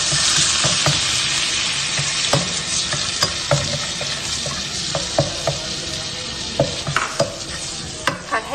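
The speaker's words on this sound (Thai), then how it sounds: "ผัดให้กะทิแตกมันนะคะให้พริกแกงพะแนงเข้ากับน้ำกะทิแล้วก็แตกมันนะคะ" Coconut cream and panang curry paste sizzle loudly in a pan as they are stir-fried, with a steady hiss and repeated scrapes and clinks from the spatula throughout.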